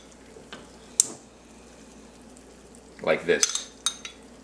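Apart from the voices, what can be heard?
egg and tomatoes sizzling in pan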